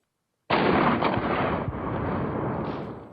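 A robotic droid's 12.7 mm machine gun opens fire on a test range in a sustained, loud burst after a moment of silence, rapid shots blending into a continuous rattling roar.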